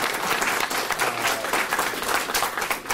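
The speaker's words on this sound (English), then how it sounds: "I think a round of applause for Dr." Warm audience applause at a symposium, a full room clapping steadily at moderate loudness for a few seconds without pause.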